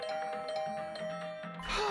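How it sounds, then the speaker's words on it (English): Inside a horror video game, a doorbell gives a clear two-tone ding-dong chime over a low ambient music bed, followed by a sudden rising whoosh at the end. "I was brought back to the land of the living by unrelenting ringing my doorbell"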